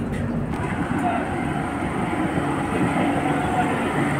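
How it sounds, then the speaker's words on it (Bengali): A local train rumbles steadily with a constant low roar and faint rattling, like carriages rolling along the tracks after pulling out of Howrah station. "হাওড়া স্টেশন থেকে ছেড়ে আমরা এগিয়ে যাচ্ছি। 3:25 ট্রেনটি ছাড়লো।"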